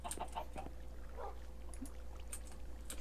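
Minecraft chickens clucking softly at a distance, a few short scattered clucks over a steady low hum, with no talking.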